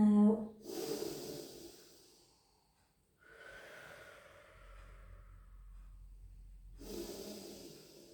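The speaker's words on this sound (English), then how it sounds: "Just take some lovely deep breaths in and out." Slow, deep breaths in and out during a Pilates session in child's pose: airy, close inhalations and exhalations, each a few seconds long, separated by a brief quiet pause.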